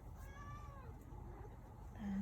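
A cat meows indoors, a few short rising and falling cries close by and faint, followed by a brief soft rustle.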